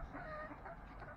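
Egg-laying chickens clucking softly inside a coop, a low, continuous murmur of fowl calls heard faintly in a short stretch without talk.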